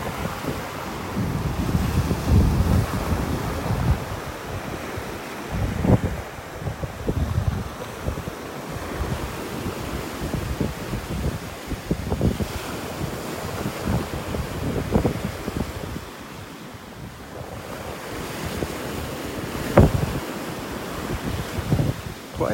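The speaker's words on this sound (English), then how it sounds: "I pan out to the Gulf, the wind's really nailing it." Strong wind buffeting a microphone on a Gulf beach in North Naples, Florida at sunset, gusty rumbling bursts over a steady wash of surf, continuous and close throughout.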